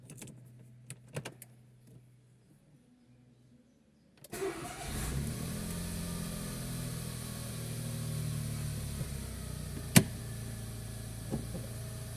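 A Smart Fortwo 450 (2000) engine cranks after a quiet stretch with faint clicks, catches and settles into a steady, close idle, with a sharp click partway through.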